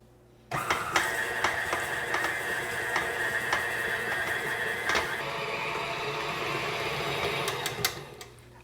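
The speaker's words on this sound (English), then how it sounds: "we're going to combine the butter and brown sugar and we're going to beat them until they're combined" An electric mixer beating butter and brown sugar in a bowl, a steady close whirring motor that starts abruptly, runs for several seconds with slight pitch changes, then stops.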